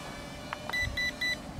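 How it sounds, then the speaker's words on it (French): A DFD F180 drone gives three short, evenly spaced electronic beeps to signal its third speed setting, clear and high-pitched over a quiet background with a couple of faint knocks just before. "3 bips, troisième vitesse."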